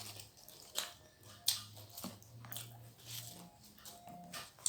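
Crisp cabbage bitten and chewed up close, several sharp crunchy bites spaced apart with wet chewing between them, in a quiet room.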